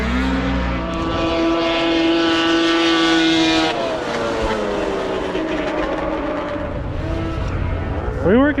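Race car running on the track at the Lincoln 250 in the MIRA series, a loud engine whine that holds a steady pitch and then drops, with a rising rev near the end.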